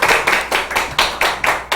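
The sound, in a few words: audience applause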